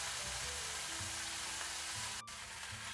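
Pork tenderloin sears in a hot pan with a steady, close sizzle over a low hum. The sizzle is briefly interrupted near the end. No one speaks.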